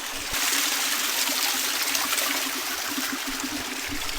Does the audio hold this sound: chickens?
no